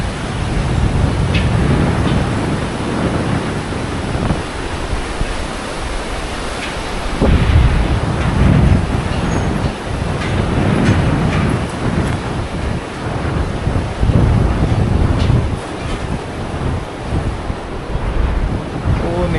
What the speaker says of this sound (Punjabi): ਹਵਾ ਚੱਲ ਰਹੀ ਪੂਰੀ ਮਾਰੋ ਮਾਰ